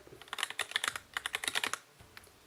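Rapid clicking of computer keyboard keys pressed by Hellish Quart tournament players, a close burst of a dozen or so crisp taps in quick rhythm, then a brief pause and a few softer clicks.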